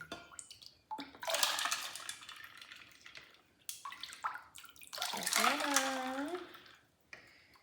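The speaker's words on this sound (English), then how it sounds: "I'm going to ladle this into my pitcher" Homemade ginger beer is ladled from a bowl into a pitcher in bursts of splashing pours and soft clinks of the ladle, separated by short pauses, with a voice briefly heard near the end.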